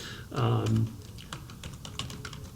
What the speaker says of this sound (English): I just type in Islam plus NBC Learn